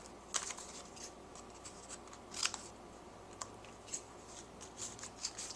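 Scissors snip tabs off the edges of a paper star scrapbook, a handful of short, crisp cuts spaced irregularly, close and fairly quiet with no talking.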